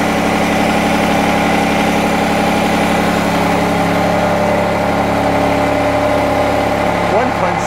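A Mercedes-AMG ONE road-legal hypercar with a 1.6 V6 idles with a loud, steady, tonal drone and a layered mechanical whine, holding constant close to the microphone, with people talking under it.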